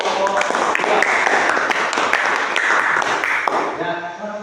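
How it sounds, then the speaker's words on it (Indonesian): A classroom of students applauds for group 2 during a lesson, a dense, steady patter of many hands clapping at even loudness for several seconds before tapering off at the end. "tepuk tangan untuk kelompok 2"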